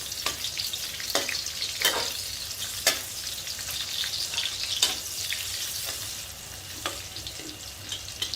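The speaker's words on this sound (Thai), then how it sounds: "ใส่กระเทียมเจียวค่ะ แล้วก็ พริกนะคะลงไปเจียวให้หอมเลยค่ะ" Chili and fried garlic sizzle in hot garlic oil, a steady crackling fry with repeated sharp stirring scrapes at irregular intervals, close and fairly loud with no talking.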